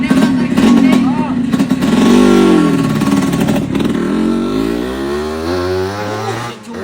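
A motorcycle engine revs loudly up close, rising and falling in pitch, then settles to a steady drone, with voices talking over it now and then.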